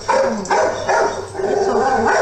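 Two female pit bull dogs heard at a home, with close, loud yips and whimpering barks coming in repeated bursts about every half second, continuous and fairly dense.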